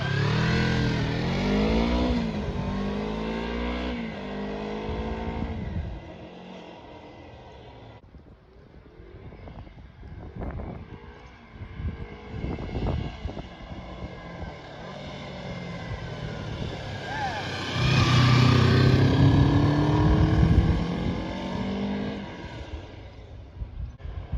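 A Kawasaki Eliminator EL 250 motorcycle ridden along country roads, its engine droning steadily and loudly throughout, with shifting revs and wind rush swelling near the end.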